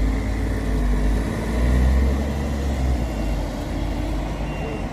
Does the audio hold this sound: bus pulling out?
yes